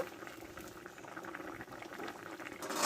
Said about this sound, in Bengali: আর মাছের ডিমের বড়াগুলো আমি এটা ঢেলে দেবো কিছুক্ষণের জন্য ফুটিয়ে নেব